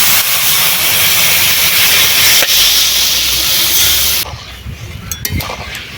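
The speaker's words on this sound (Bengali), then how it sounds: "এবারে জল দিয়ে দিচ্ছি।" Water poured into a hot pan of crab curry sets off a loud, sustained steam hiss and sizzle for about four seconds, then drops off sharply to softer bubbling and scattered clinks.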